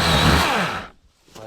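A Dewalt 12-inch battery-operated chainsaw cuts with a loud, close, whining buzz for under a second, then cuts out into near silence before a faint trailing sound.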